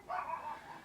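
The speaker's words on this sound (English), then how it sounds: "you can hear my dog in the background" A dog yips once in the background, a short, faint, whining bark lasting under a second.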